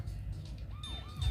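A thin, high electronic siren wails in short up-and-down sweeps, like a small toy's, over low background rumble.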